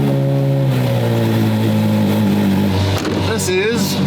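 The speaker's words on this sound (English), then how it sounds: "Cold start, cold start, cold start." Twin-turbo Ferrari F12 engine firing on a cold start, a loud steady rumble with a rising rev and shifting pitch near the end, talk running over it throughout.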